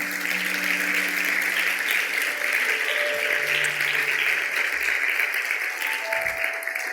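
A church congregation applauds loudly and continuously, a dense wash of clapping filling the room at a steady level, with faint tones underneath.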